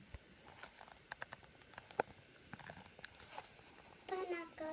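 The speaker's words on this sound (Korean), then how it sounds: "비 소리가 지금 들리고 있어요" Carbon dioxide bubbles rise through a homemade lava lamp, making faint, scattered pops and soft crackles like light rain. Near the end a brief voice sounds quietly over them.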